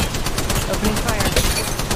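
Rapid automatic gunfire in the mobile shooter Apex Legends Mobile, a steady, loud, continuous stream of shots with a game voice line over it.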